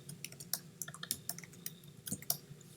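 Someone types an email in Outlook on a computer keyboard, producing rapid, uneven clusters of soft, close key clicks and taps with short pauses between words.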